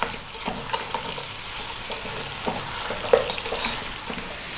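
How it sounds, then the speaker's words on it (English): Lamb bones and fat fry over medium heat in a pot for bone broth, a continuous sizzle with occasional scrapes and knocks as they are stirred, no talking. "we're going to go medium heat for about 7 or 8 minutes, stirring every now and then"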